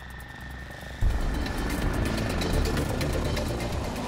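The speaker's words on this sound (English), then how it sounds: "847 Squadron's attack helicopter is the Westland Lynx, the fastest helicopter in the world and highly maneuverable." Westland Lynx attack helicopter of 847 Squadron flying in hot desert conditions, a steady engine and rotor roar that jumps louder after a second and holds as a continuous close drone.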